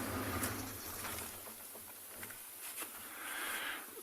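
Birds calling from a road at sunrise on a safari drive through the Tswalu reserve, with soft cooing and chirps that sound fairly distant. They are mixed into a breezy, rumbling outdoor background with engine-like low noise.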